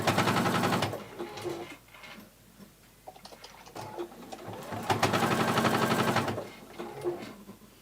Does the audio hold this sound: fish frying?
no